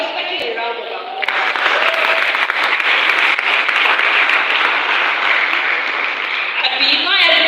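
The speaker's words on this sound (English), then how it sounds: "I was expecting a round of applause." A workshop audience at a youth development event breaks into loud, sustained applause and clapping that fills the room for several seconds, with a voice briefly heard before it swells.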